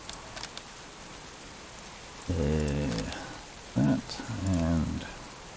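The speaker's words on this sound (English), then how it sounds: "And here comes the rain again." Rain in the survival game Subsistence: a steady, soft hiss of falling rain throughout, with a voice speaking over it partway through.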